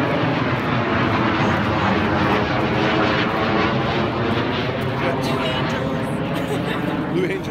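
Loud, continuous roar of Blue Angels jet aircraft passing overhead, a broad rumbling engine wash sustained throughout, with speech underneath.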